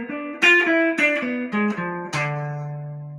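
A clean guitar plays a short country-jazz phrase of plucked notes descending stepwise, ending on a ringing held note that slowly fades, with no voices.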